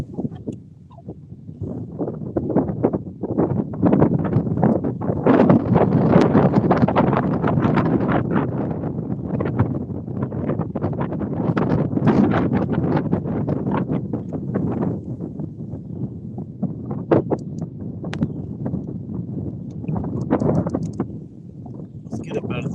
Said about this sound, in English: Let's get up out of this wind.